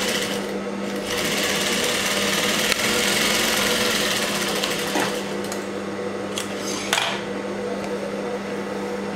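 A sewing machine runs steadily, double-stitching a blouse at a tailoring class, with a constant motor hum and rapid needle chatter holding close and even for the whole stretch, broken only by a few faint handling clicks.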